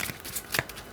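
Oracle cards shuffled by hand in a quick riffling burst of papery flutters, close and clear with no talking.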